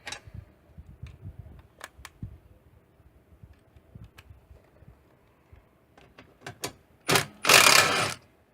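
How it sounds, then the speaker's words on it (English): Work on a Suzuki Quad Master 500 ATV, loosening a bolt with an extended screwdriver: quiet scattered mechanical ticks and clicks at close range, ending in a brief louder scraping burst. "I'm gonna need to get an extension for that, for the screwdriver."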